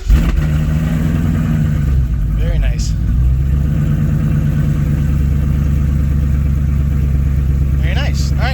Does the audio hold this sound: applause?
no